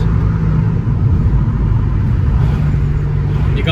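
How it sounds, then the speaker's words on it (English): A modified car's exhaust and turbo during town driving with the windows down, a steady close engine drone and rumble throughout, with a brief higher whistle right at the end. "we can hear the turbo and the crisp air, we can hear the exhaust."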